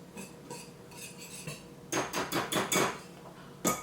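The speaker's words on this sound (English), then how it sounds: "Then we're just going to whisk all these together." Garlic powder, onion powder and salt whisked together in a bowl, a rapid series of light metallic clinks, first softer and spaced, then louder and quicker, ending with one sharp tap.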